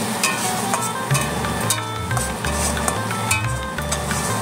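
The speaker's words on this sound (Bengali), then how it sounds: "পেঁয়াজ রসুনটা ভালো করে আমি তেলে ভেজে নেব, কষিয়ে রান্না করে নেব।" Onion and garlic paste frying in hot oil in a wok (kadai): a steady, close sizzle with repeated stirring scrapes and light clinks throughout, no voices.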